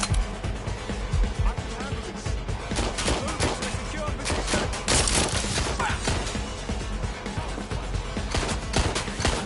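Dense gunfire from a Watch Dogs: Legion firefight, loud and close, with shots crackling in a nearly unbroken stream while voices talk over the shooting.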